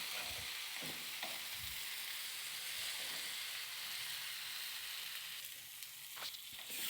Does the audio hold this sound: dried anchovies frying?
yes